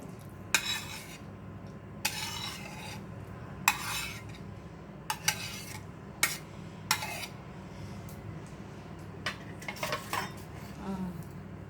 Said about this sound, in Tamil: இப்போ நம்ம கிண்டி வச்சுருக்க முட்டையை அதில் சேர்த்துக்கலாம்.